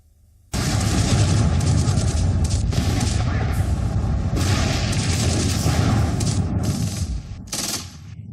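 AK-47 rifle fire, a dense roar of loud, sustained automatic gunfire and booming blasts that runs almost without a break for about eight seconds and then briefly cuts out near the end.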